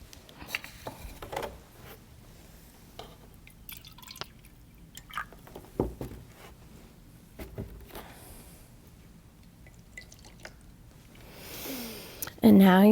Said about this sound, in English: we're going to add some water to it to be able to make it more like a dye